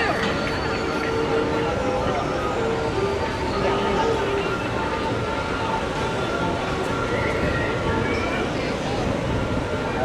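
A Disney theme park train rumbles steadily past at moderate distance, a continuous clattering roar mixed with faint crowd murmur.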